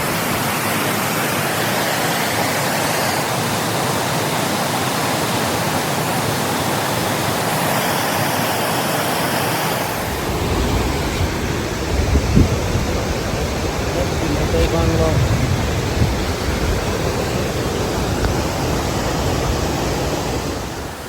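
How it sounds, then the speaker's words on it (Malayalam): A strong river current flows in a steady, loud broadband rush that runs unbroken throughout, with faint talk beneath it in the second half. "ഒഴുക്ക, നല്ല ഒഴുക്കാ."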